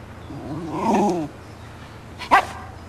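A dog gives a rough, drawn-out bark-growl, then one sharp, loud bark a moment later, close by and with no talk over it.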